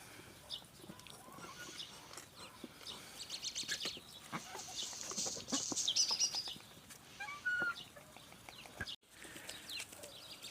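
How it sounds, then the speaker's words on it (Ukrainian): Birds chirp and call outdoors on a sunny village morning over several seconds, with scattered clucking fowl and geese mixed in at moderate distance. "У нас сьогодні гарно сонечко світить, пташечки співають."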